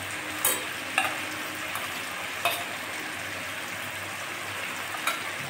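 Mustard paste going into a frying egg curry with tomato, a steady close sizzle of oil and spices under a few sharp spoon clacks as the pan is stirred.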